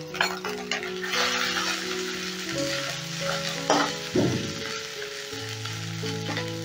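Chili and fennel powder frying in a pan while making radhaballavi, a steady close sizzle with stirring scrapes and a brief louder crackle partway through, with no talk.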